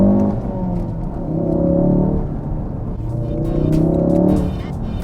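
A Ford Focus RS with a Mountune-optimized Accessport tune accelerates hard in second gear, its engine note rising loudly and steadily from inside the car, with a brief dip before it climbs again.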